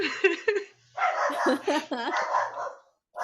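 A dog barks in a few quick, fairly close bursts at the start, then people talk over it with no further barking.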